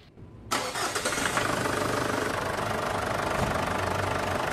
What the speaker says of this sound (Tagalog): pina-start ko na kay boss itong makina.